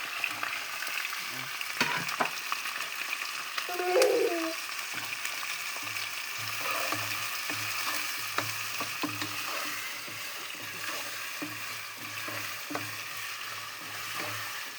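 Chopped garlic, ginger and onion fry in a pan for Hilsa fish pulao, a steady close sizzle broken by scattered stirring taps and a brief louder bubbling burst early on.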